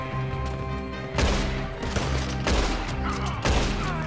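Rapid bursts of gunfire in the video game Red Dead Redemption 2 crackle over a droning engine-like hum, with several sharp volleys spaced a second or so apart.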